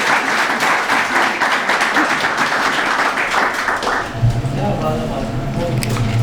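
A church congregation at a Father's Day sermon claps loudly and fast for several seconds. The applause then fades into a quieter room with a low hum and some voices.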